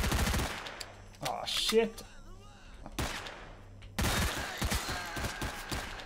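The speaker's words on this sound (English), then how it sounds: "Ooh, shotgun, dude." Shotgun gunfire in the video game S.T.A.L.K.E.R., with several sharp, loud blasts at the start and a burst of rapid shots near the end, separated by quieter game ambience, and someone briefly speaks.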